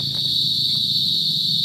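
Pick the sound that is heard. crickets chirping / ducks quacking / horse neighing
crickets chirping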